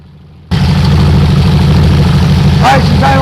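A 1974 VW Super Beetle engine cuts in abruptly and settles into a steady, loud low idle, a rough even thrum that holds close for the rest of the clip, with a brief voice near the end.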